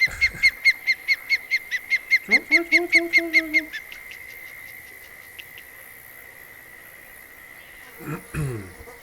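Bird calling in the Fishing Planet fishing game: a fast, loud series of about fifteen sharp repeated chirps, a brief lower honking call partway through, then a single fainter call near the end, with no talk.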